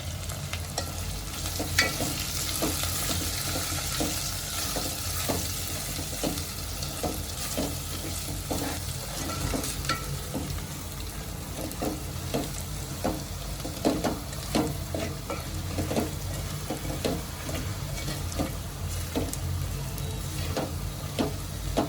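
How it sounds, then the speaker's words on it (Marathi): Spices and asafoetida sautéing in a pan over a medium flame for Khandeshi khichdi, a steady close sizzle with frequent scraping stir strokes running throughout, no talking. "मसाल्यांबरोबर ह्यांना मी दोन मिनिटापर्यंत चांगलं परतून घेते"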